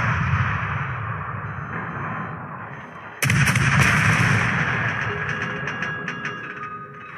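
Cossack units in a real-time strategy battle fire on a target. The rumbling volley swells into a sharp, loud burst of gunfire with crackling echoes that trail off.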